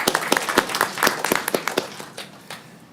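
A small room of people claps in a brief burst of sharp, irregular hand claps that thin out and fade within a few seconds.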